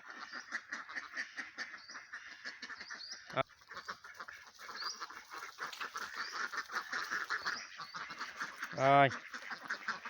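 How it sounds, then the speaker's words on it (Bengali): Ducks sitting in a village graveyard in Bangladesh quack softly in the background alongside ongoing speech, with a few louder honking calls near the end. "এখানে হাঁসগুলো সুন্দরভাবে বসে আছে দেখুন"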